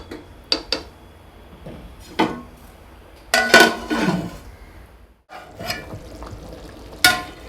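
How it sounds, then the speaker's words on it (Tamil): A spoon scrapes and clinks against a metal pot in short bursts of stirring rice for chicken dum biryani, with a brief rattling scrape in the middle. "ஜென்டலாக ஒரு மிக்ஸ் கொடுத்துட்டு நம்ம தட்டு போட்டு மூடிடுவோம்"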